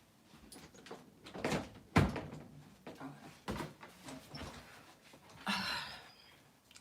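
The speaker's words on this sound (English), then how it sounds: "Okay, so Brittany, let me close my door" A door at home is pushed shut, giving a few dull knocks and a louder thump near the middle, close by and fairly loud, with light background rustling and no talking.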